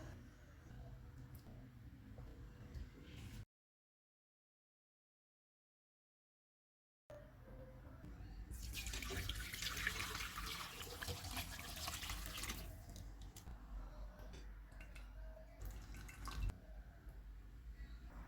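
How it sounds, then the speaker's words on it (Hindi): Beef stock (yakhni) poured through a strainer after the beef pieces are lifted out, giving a steady close rush of running, splashing liquid in the middle of the clip, framed by quieter kitchen handling and a brief silent gap. "बीफ के पीसेस को निकाल लेते हैं और यखनी को छान लेते हैं"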